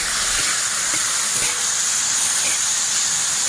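Tomatoes dropped into a pan of fried onions, producing a loud, steady, broad sizzle and hiss that holds evenly throughout with no voices.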